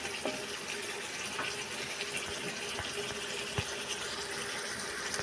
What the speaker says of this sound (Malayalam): ഇച്ചിരി കൂടെ വെള്ളം ഒഴിച്ചിട്ട് വേണം വേവാൻ